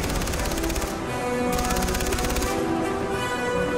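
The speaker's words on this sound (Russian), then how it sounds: "Кто там палит? Кто смеет палить?" Rapid bursts of automatic gunfire in the video game Far Cry 3 rattle repeatedly in a steady, fast rhythm, loud and continuous with brief pauses between volleys.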